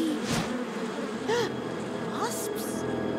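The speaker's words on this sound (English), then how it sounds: "I see you've met my wasps." Cartoon wasps hatching and buzzing, a steady dense drone throughout, with a few short whooshing and chirping effects layered on top.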